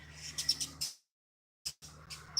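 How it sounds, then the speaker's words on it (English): Birds squabbling outdoors give a few sharp, high chirps in a quick cluster, then go silent, then return with a couple more chirps over a low background hum. "Looks like some birds fighting."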